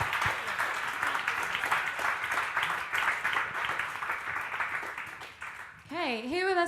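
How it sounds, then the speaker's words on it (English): An audience at a Puregold Lounge event gives a round of applause, dense steady clapping that fades out near the end, with a voice speaking over it. "Round of applause."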